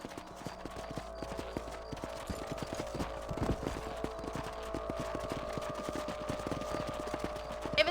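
Horse hooves clip-clop steadily along a ranch trail in Red Dead Redemption, a brisk even rhythm of close, moderately loud hoofbeats carrying on throughout without talk.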